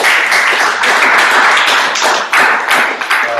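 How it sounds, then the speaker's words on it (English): Audience applause at a startup pitch event, dense close clapping with sharp hand claps throughout, fairly loud and continuous for a few seconds. "Give these guys a lot of applause."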